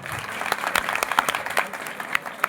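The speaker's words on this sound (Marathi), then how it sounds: "आपण एकदा जोरदार टाळ्या आपले जे शिक्षक वृंद आहेत त्यांच्यासाठी एकदा झाल्या पाहिजे" Scattered hand claps from an audience at a village school event introducing the characters of a Marathi play, for the teachers, with sharp individual claps popping irregularly over a light crowd background.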